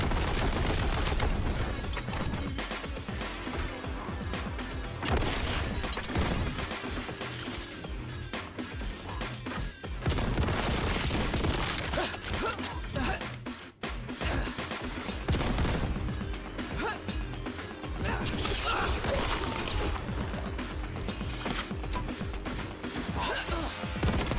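Video game demo combat: grenade explosions and bursts of rapid gunfire crackle and boom continuously, loud and dense, with a brief dip near the middle; a voice talks over parts of it.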